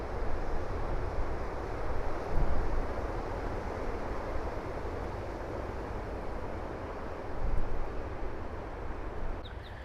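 Strong, steady wind roars and buffets an ultralight two-person trekking tent pitched outdoors in Australia, a dense continuous rush that swells in gusts, close and loud, with no talk.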